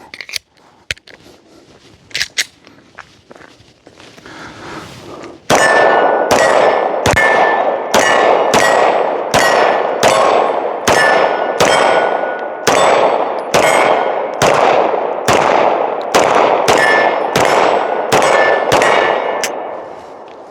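Ruger RXM pistol shots fired while walking ring out in a steady series of about fifteen loud, sharp cracks, each followed by a metallic clang from steel targets, after a few quieter handling clicks.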